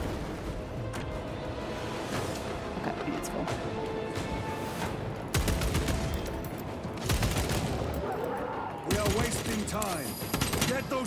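Gunfire in the video game Space Marine II, with scattered bursts of shots and heavy impacts over a dense, busy battle soundscape, plus other game effects throughout.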